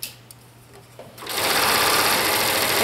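A sewing machine fitted with a stretch needle stitches leggings, quiet at first and then running continuously and loudly at a fast, even stitching rate.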